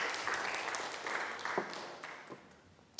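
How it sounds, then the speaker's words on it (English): A church congregation applauds during a Sunday service, a soft, moderately distant patter of clapping that thins and fades toward the end. "Round of applause."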